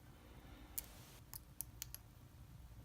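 Lock pins clicking while a US General padlock is picked, a handful of tiny sharp metallic ticks spaced irregularly over a quiet background, close and faint, with no voice.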